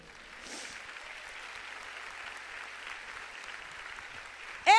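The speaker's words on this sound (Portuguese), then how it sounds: "Você pode dar um aplauso a ele?" An audience at a Portuguese-language talk applauds with soft, steady clapping that stays fairly faint and even throughout, ending in a sudden louder sound at the very end.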